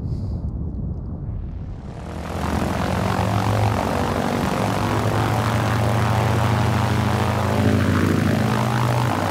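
A propeller warplane engine in Battlefield 1943 swells from a quieter start into a loud, steady drone that holds to the end, with no talking over it.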